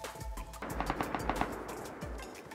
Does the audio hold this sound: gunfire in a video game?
yes